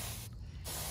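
A spray bottle gives a single brief hiss of mist as it dampens a stone foundation before repointing with fresh mortar. The burst is close and short, with no talk.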